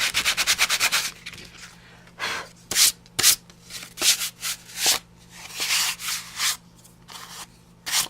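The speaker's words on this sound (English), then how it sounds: "pulled out a piece of trusty sandpaper, and if I sanded those high ridges that I had on my card" Sandpaper rubbed over raised ridges on a cardboard card in a papercraft session: a quick burst of rapid close-up scratchy strokes, then slower separate rasping passes with short pauses between them.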